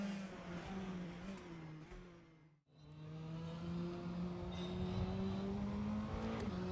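Naturally aspirated Praga R1 race car engine in Assetto Corsa, droning steadily at high revs, with a brief cut around a gear change before pulling again, loud and close with no talk.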